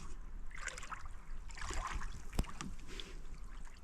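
A canoe paddled on Upper Arrow Lake, soft water swishes and trickles from paddle strokes, close and quiet, with one sharp knock partway through.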